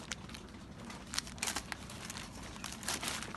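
Plastic bag crinkling while an airway pack with closed suction tubing and a tube tie is packed up, a steady close rustle with sharper crackling bursts throughout, no talking.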